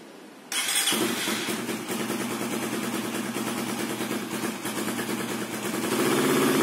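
A fuel-injected Suzuki FU 150 motorcycle cranks and fires up after a brief quiet moment, then settles into a steady, close, rattling single-cylinder idle that swells slightly near the end.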